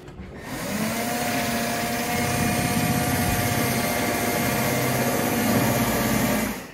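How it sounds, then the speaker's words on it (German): A power drill bores into the rear of a motorhome in a workshop, fitting it for extra LED lights. The steady, loud motor whine runs almost unbroken for about six seconds, then cuts off. "und zwar wird jetzt gebohrt"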